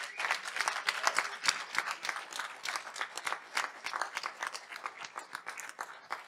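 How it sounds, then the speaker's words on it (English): An audience at a healthcare talk claps in a steady, moderately loud round of applause, dense overlapping hand claps that slowly thin toward the end. "So let's have one last round of applause"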